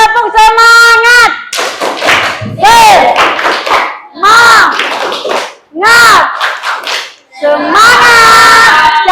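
A school class doing a rhythmic tepuk semangat, loud close bursts of group shouting with claps in between, several short chanted phrases separated by brief pauses.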